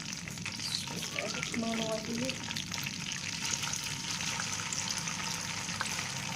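Chicken pieces for lemon pepper chicken sizzle steadily in a hot kadai with a constant, close frying crackle and some stirring clatter, while a voice speaks faintly underneath.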